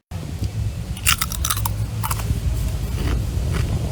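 Stone-ground corn nacho chips are bitten with several sharp, crisp crunches spread across the stretch, standing out close over a low steady background hum.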